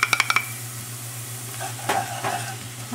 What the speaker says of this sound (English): We're going to stir it in.